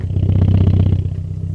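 A Toyota Celica GT4 exhaust heard up close: a steady, loud, low engine rumble with a rapid pulsing beat and a little mechanical clatter. It eases slightly toward the end.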